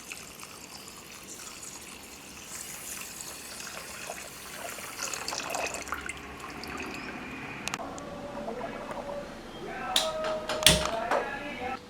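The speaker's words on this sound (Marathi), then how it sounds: "तर मी हे पाणी ह्याच्यात घालतो." Water is poured into a pot of sugar to make syrup for gulab jamun, giving a light trickling and splashing. A few sharp clinks follow near the end, and a voice talks in the background.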